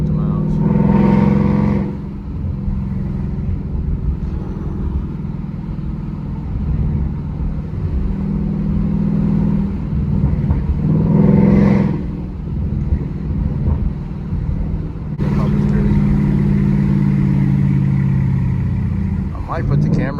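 From inside, a car with an H-pipe in place of the resonator and a Roush axle-back exhaust drones steadily, with three rising revs as it accelerates, while someone talks over it.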